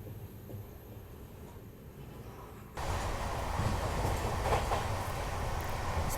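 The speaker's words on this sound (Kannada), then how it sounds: "ಬಂಗಾರಪೇಟೆ ರೈಲ್ವೆ ಸ್ಟೇಷನ್ಗೆ ಎಂಟ್ರ್ ಆಗತ್ತೇವೆ ನೋಡಿ" A Bihar-to-Bengaluru mail train runs at high speed through the night toward Bangarpet railway station, giving a steady rumble that rises sharply into a louder, continuous roar with wheel clatter, heard from on board.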